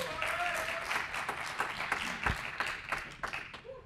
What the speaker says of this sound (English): if I get a nice big round of applause for our first speaker